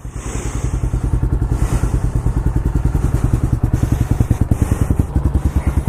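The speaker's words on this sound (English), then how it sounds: "It's a single cylinder, 223cc, 4-stroke, very simple carbureted engine with 2 valves and 1 overhead cam." A 2019 Pitster Pro XTR 250 pit bike, its 223cc single-cylinder carbureted 4-stroke engine with two valves and an overhead cam, revs loud and close with a rapid, steady popping exhaust pulse that rises and dips slightly.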